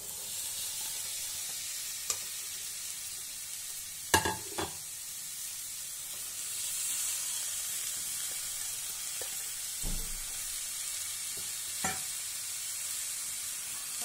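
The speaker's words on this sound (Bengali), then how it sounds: "সব সবজিগুলো দিয়ে ভালো করে কষিয়ে নেব" Vegetables fry with sambar masala for sambar dal, a quiet, steady sizzle with sparse clacks and scrapes of a spoon stirring the pan, one sharper knock midway.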